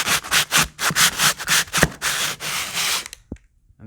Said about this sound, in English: so we have sanded the whole run, took about 5 minutes